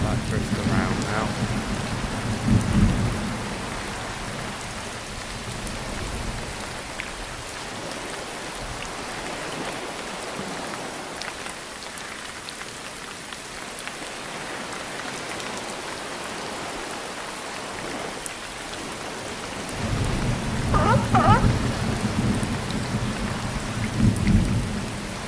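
Thunderstorm on the Oregon coast at Cannon Beach, with steady rain hiss throughout and low rumbling thunder swelling near the start and again toward the end; no talking.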